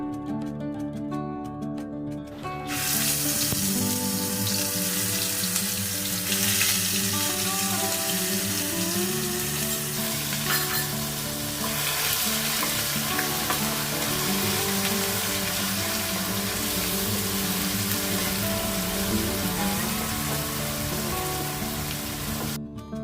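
Onion paste frying in a pan with hing on a gas flame turned low, for a Gujarati black chana curry; a steady, loud wash of sizzle runs throughout with no talking.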